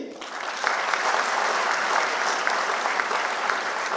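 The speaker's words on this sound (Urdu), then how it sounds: "ان شاہینوں کے لیے تالیاں نہیں ہو سکتی؟" A crowd at a PML-N political speech event claps in a steady, dense burst of applause that holds for several seconds.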